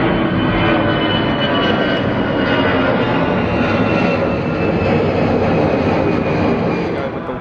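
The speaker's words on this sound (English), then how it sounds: "Takeoffs now. Yet another EasyJet." An EasyJet airliner takes off at London Gatwick Airport, its jet engines giving a loud, continuous, broadband roar that holds steady for several seconds and eases only slightly at the end.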